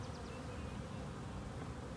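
Honeybees hum steadily during a springtime hive inspection, a soft, continuous buzz of many insects close around the open frames, with no talk.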